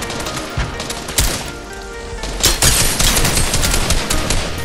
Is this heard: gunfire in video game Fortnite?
yes